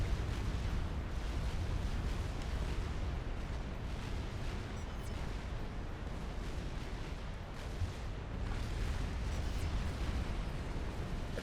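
Artillery fire in the strategy game Supreme Commander: Forged Alliance, with shells striking a shielded base: a continuous, distant rumbling roar of booms and explosions blending into a dense low wash that stays fairly even throughout.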